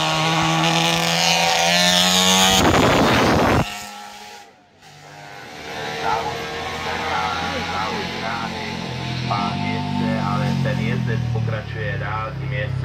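Classic 350cc racing motorcycles at the Czech TT roar past loudly, a sharp burst of engine noise followed by a sustained drone as they accelerate away, with a commentator talking throughout.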